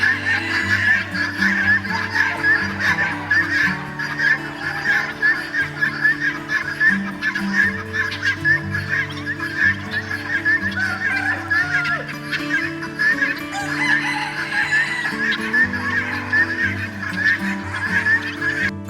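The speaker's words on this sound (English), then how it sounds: "Their warning calls are loud." A flock of guinea fowl gives loud warning calls, rapid repeated cackling chatter that goes on continuously, close and busy, with no talk over it.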